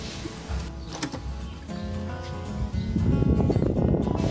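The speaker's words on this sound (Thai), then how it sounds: "เดี๋ยวลองเปิดพัดลมดูครับ" An electric fan is switched on while its AC current is checked with a clamp meter: a few clicks and a soft mechanical whir give way to a louder, steady low rushing hum as the motor spins up.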